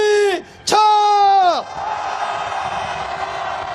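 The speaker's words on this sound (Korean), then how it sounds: "용산 집무실을 향해서 힘찬 함성 질러보겠습니다." Crowd at a candlelight protest march in Seoul heading toward the Yongsan presidential office, led by a loud amplified voice calling out, then the marchers answer with a sustained roaring shout that carries on as a broad wash of cheering.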